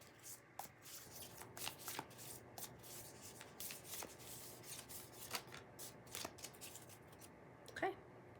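Thin, gold-edged tarot cards from the Accurate AF Tarot deck are shuffled by hand at close range, with rapid papery riffles and soft slaps repeating irregularly over several seconds and a faint voice briefly audible.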